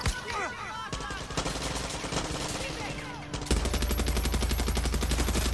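Rapid machine gun turret fire in Far Cry 6, a dense steady burst that grows louder and heavier in its second half, with faint voice-like sounds mixed in early on.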